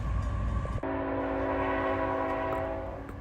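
A CSX southbound B522 freight train hauling steel slab loads and coil empties behind two ET44AC locomotives sounds a loud sustained multi-chime horn over heavy rumbling rail noise, which fades slightly toward the end.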